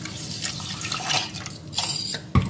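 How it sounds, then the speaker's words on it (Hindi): Water is poured into sweetened bael fruit juice, a close, continuous splashing trickle that swells toward the end and closes with a sharp clink. "और अब इसमें पानी डालेंगे।"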